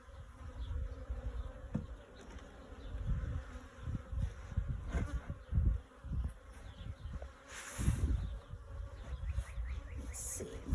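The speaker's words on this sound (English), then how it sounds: "See those bees?" Honeybees buzz steadily around an open beehive during a hive inspection, a dense close drone of many insects with swelling and fading passes throughout.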